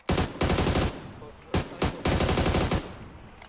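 MG3 machine gun fire in PUBG on the Miramar map, several rapid automatic bursts of loud close shots separated by short gaps, with a faint voice in between.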